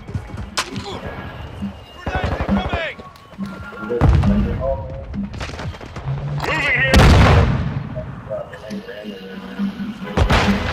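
Frag grenade blasts and gunfire in Call of Duty: Modern Warfare II, loud broadband booms and sharp bursts of shots recurring across the clip, close and heavy, with voices talking over the combat.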